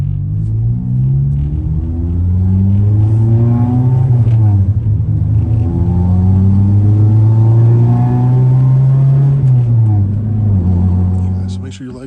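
Honda Civic EP3 fitted with a JDM K24A engine accelerating hard through the gears, a loud, steady engine drone rising in pitch with brief dips at shifts, heard from inside the car.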